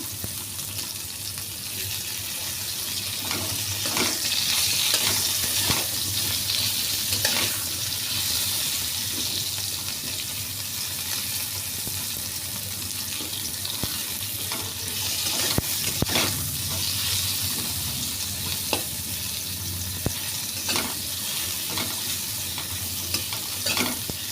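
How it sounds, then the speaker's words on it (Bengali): Potatoes and pointed gourd frying lightly in a pan, a steady, bright sizzle that runs unbroken, with scattered scrapes and taps of a spatula stirring, close and fairly loud with no talk. "অল্প ভাজবো বেশি ভাজবো না"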